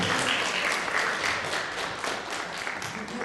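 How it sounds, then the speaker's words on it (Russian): An audience in the National Library keeps up a steady round of applause, the dense, even clapping sustained at moderate loudness without pause. "Аплодисменты не стихают, не стихают."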